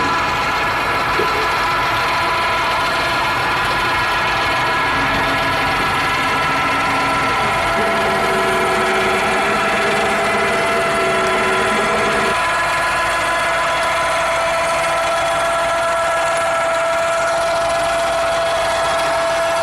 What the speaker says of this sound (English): It's actually powered by a four-wheeler winch. I'll put a shot of it running, lifting up and down.